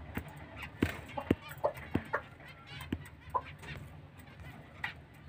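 A brooding hen sitting on eggs clucks repeatedly in short, soft bursts, close by, with irregular spacing over a quiet background.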